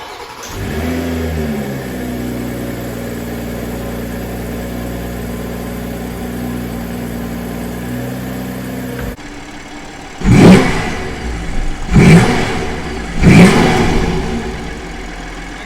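A BMW M340i B58 engine fitted with an MST intake idles steadily after starting, then cuts quiet before three loud, close revs burst out one after another.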